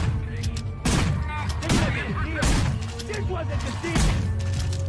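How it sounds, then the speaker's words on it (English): Shotgun and sniper rifle fire in the video game Manhunt: three loud, sharp blasts spaced a second or two apart, each trailing off into ringing echoes over a busy background of game sound. "Up there, the Rabbit has armed himself with a shotgun, and is accompanied by a Cerberus guard carrying a sniper rifle."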